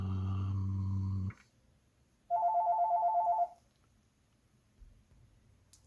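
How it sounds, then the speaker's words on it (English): A telephone rings once, a short electronic burst in the middle that stands out clearly after a steady tone fades into a quiet room. "As you heard, the phone rang."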